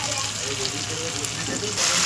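Spicy masala already fried in oil for chili chicken keeps up a steady close hiss as sauce is poured into the pan, with the sizzle swelling louder near the end.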